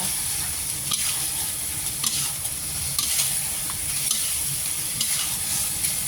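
Steamed tempeh and tofu fry in a pan, a bright continuous sizzle broken by regular scraping stirs about once a second, close and fairly loud with no talking.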